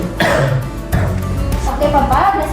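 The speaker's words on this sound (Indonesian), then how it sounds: "Bapak boleh batuk Pak." Patient coughing during postural drainage in a clinical setting, a few close, harsh coughs and throat clearing across a short span, with a voice mixed in.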